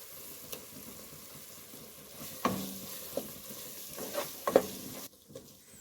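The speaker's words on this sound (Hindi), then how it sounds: "अब हम इसमें 2 table spoon ginger and garlic का पेस्ट ऐड कर देंगे।" Ginger-garlic paste frying with onions in a pan for egg curry: a soft, quiet sizzle broken by scattered spoon scrapes and clinks, with no talking.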